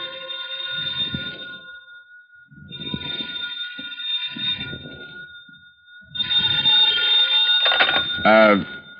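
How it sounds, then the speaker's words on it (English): A telephone bell rings in a radio drama scene, coming in repeated bursts with short gaps, the last burst louder and closer, while voices talk between and under the rings. "Then the phone rang."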